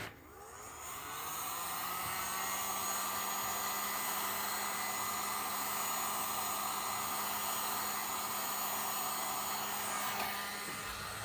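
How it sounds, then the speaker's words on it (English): A heat gun blows hot air in a steady, loud whooshing roar that spins up quickly, holds an even tone for about nine seconds, then cuts off, close to the listener. "Let's hit that with some heat gun."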